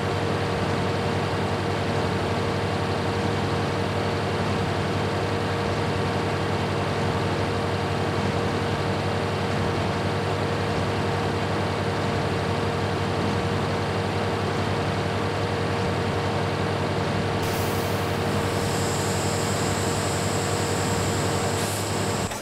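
A farm vehicle is driven in Farming Simulator 2013, with a steady engine drone and a constant low hum running throughout, loud and unbroken, with a brief higher tone shift near the end.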